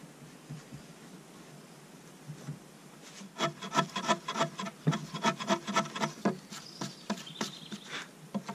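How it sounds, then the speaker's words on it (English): Sanding glued green-wood timber-frame joints: after a quiet start comes a close, rhythmic run of rough rubbing strokes, moderately loud, with no one talking. "I'm gonna sand these down then."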